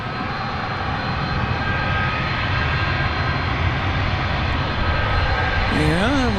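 Loud, steady jet engine roar from an MD cargo jet at DFW Airport at night, a broad continuous rumble filling the whole stretch, with a brief warbling tone rising near the end.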